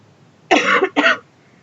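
A lingering cough from a woman, two harsh close bursts in quick succession, with no talking around them.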